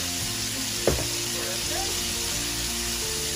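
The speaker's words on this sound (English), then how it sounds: "we are going to put also a minced garlic" About a teaspoon of minced garlic hits a hot pan while making nachos, giving a loud, steady sizzle throughout, broken once early by a brief soft thump.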